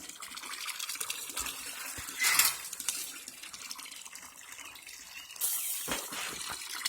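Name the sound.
hose running fresh well water into a crawfish trap tank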